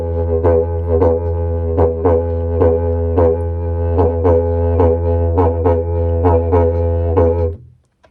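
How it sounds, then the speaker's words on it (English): Didgeridoo droning continuously with circular breathing, a steady low hum broken by regular rhythmic accents in a groovy pattern, played alone and close until it stops near the end. "And on the didgeridoo, it sounds like this."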